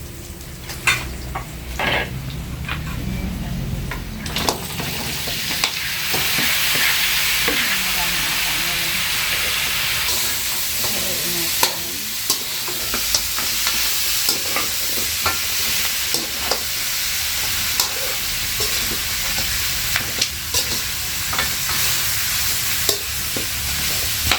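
Garlic, onion and meat frying in a pan, with a steady loud sizzle and hiss, scraping stirs and occasional clinks of a utensil against the pan throughout, no voices over it.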